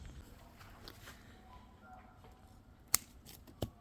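Scissors snipping dead tomato plants in a backyard garden: two quick, sharp cuts close by against a faint outdoor background, with light rustling of the foliage.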